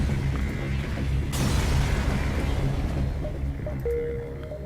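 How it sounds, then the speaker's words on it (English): A loud explosion bursts in the spaceship game FTL, a dense rumbling roar that swells and then slowly fades, with a small electronic tone near the end. "Explosion."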